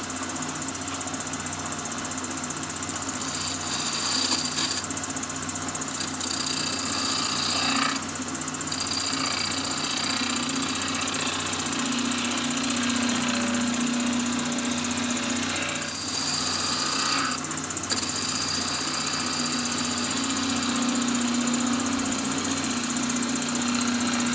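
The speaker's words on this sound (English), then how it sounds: "Lathe at 2000." A wood lathe spins steadily at 2000 rpm while an angel ornament is turned, giving a continuous mid-pitched machine drone with a faint whine and brief shifts in tone, no talking over it.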